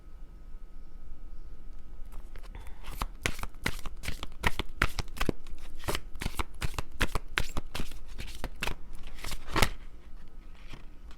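Oracle or tarot cards shuffled by hand during a love reading, a steady run of quick crisp riffling snaps that starts after two seconds of near silence and continues alone, close and clear.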